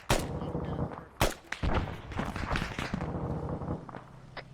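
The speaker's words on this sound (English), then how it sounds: "Some sort of cannon north." Cannon fire in the combat game ARMA 3: several sharp, heavy booms in quick succession, then rumbling echoes and scattered smaller battlefield noise, with no talking.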